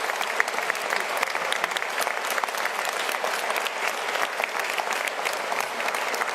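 An audience at a European conference on entrepreneurship and social economy in Strasbourg claps in steady, dense applause, sustained and even throughout without a break.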